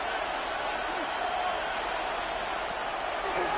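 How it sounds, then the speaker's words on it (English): Dense roar of a football stadium crowd during a tense third-down play, a steady loud wash of massed voices with no letup across the few seconds. "this crowd making it hard to hear"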